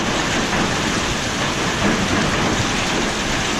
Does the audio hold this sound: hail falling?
yes